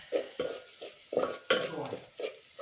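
Chicken curry masala with coriander powder roasting on a village wood-fired stove, stirred in a pan with a series of distinct scraping strokes and clinks over a faint sizzle, close and rhythmic.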